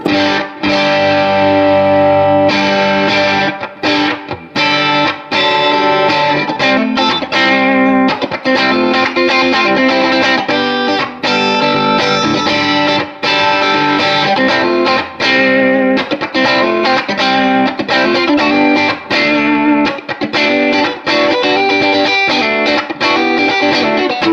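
Crunchy, saturated electric guitar through a T-Rex Crunchy Frog overdrive pedal plays continuous chords and riffs, loud and upfront, with short pauses between phrases and no voices.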